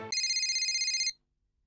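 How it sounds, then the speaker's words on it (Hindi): A telephone ringtone in a household sitcom scene plays one steady electronic burst of about a second, clear and alone, then cuts to silence. "टप्पू को फोन करता हूँ।"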